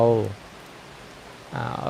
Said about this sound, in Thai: ฝนมันสาดนะ